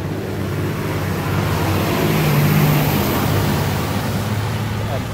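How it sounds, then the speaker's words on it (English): A truck and cars pass on a road, making a loud, continuous roadside rush of tyre and engine noise that swells midway as the vehicles go by close. "Oh, lots of cars. We're gonna wait for traffic now."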